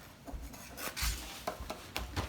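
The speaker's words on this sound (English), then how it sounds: "I'm going to start grating more of the cheese" Cheese rasps against a grater in a home kitchen, several short scraping strokes in an irregular rhythm, close and fairly quiet, with no voices.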